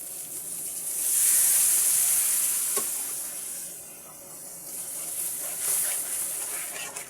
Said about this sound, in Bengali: দিয়ে দেব সামান্য পানি।